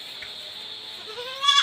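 A young goat bleats once near the end, a short wavering cry rising over faint background noise, with no talking.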